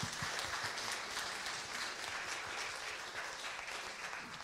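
Baptist church congregation on Easter Sunday clapping in praise, a steady roomful of hands with scattered sharp claps standing out, continuous and moderately loud.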